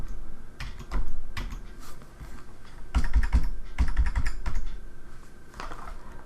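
Bank account details being typed on a computer keyboard, a close run of uneven key clicks in quick clusters and short pauses, some heavier keystrokes landing among them, with no speaking.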